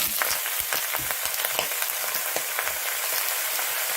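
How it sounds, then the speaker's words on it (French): Spinach shoots sautéing in sesame oil over high heat, a loud, steady crackling sizzle with rapid little pops and stirring sounds, heard close without any speech. "je vais faire sauter quelques pousses d'épinards avec simplement de l'huile de sésame à feu vif"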